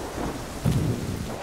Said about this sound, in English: The other day, there was a giant storm.